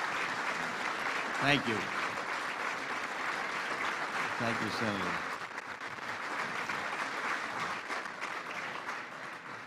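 An award dinner audience applauds steadily, the clapping thinning out toward the end while someone speaks briefly over it.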